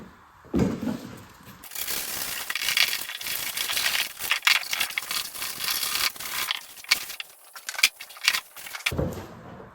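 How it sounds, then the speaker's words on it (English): A drywall saw trims foam on a wood base, irregular scratchy rasping strokes close by with short pauses between them, alone without speech. "Just going to use a drywall saw to cut it."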